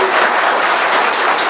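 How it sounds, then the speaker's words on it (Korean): Loud, dense applause from a seminar audience welcoming a lawyer to the lectern, a steady wash of clapping without pauses or voices. "큰 박수 부탁드리겠습니다"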